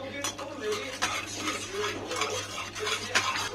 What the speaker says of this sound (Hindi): दही मैं डालते समय कंटिन्यू चलाऊंगी, क्योंकि नहीं तो मेरी दही फट जाएगी